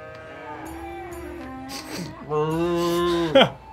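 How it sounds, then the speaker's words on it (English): Purple cattle in the Shenmue III village moo in long, drawn-out calls, one after another, fairly close and loud, with a brief burst of other noise near the end. "let's check out these, like, purple cattle."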